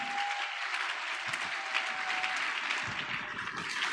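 A church congregation at a Sunday service applauds and cheers for God in a steady, dense wash of clapping that holds throughout, with a faint tone and voices mixed under it.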